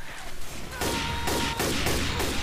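Rapid gunfire bursts from the zombie shooter game Left 4 Dead 2, several loud volleys in quick succession filling the whole clip.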